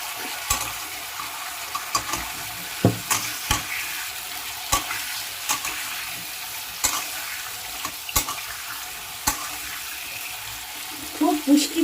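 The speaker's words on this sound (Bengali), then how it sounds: "দিয়ে দিচ্ছি কেটে রাখা কুমড়োর টুকরো।" Cut pumpkin pieces frying and being stirred in a pan for a vegetarian chilli-pepper stew, an even sizzle with regular scraping strokes, close, ending in a few bubbling pops.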